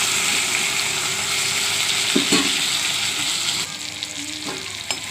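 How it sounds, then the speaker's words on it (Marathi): Tomato and onion frying with turmeric in a pan, a loud steady sizzle with occasional spatula scrapes, the hiss easing somewhat partway through, close and uninterrupted by voices. "टोमॅटो कांदा भाजून झाला की भाजून घ्यायचा, नाही तर कांदा कच्चा राहतो।"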